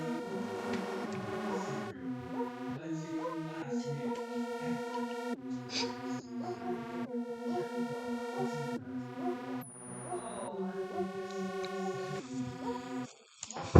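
Layered synthesizer tones from the Harmor plugin in FL Studio play a sustained, harmonically rich melodic phrase with shifting chords and a steady pulse, holding at an even level for most of the passage before briefly dropping near the end.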